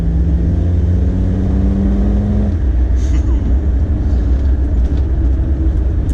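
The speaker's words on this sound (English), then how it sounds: "listening to the sound of that growl" Remapped Td5 engine of a Land Rover Defender growls steadily from inside the cabin while driving, a loud continuous low drone with a tone that drops partway through.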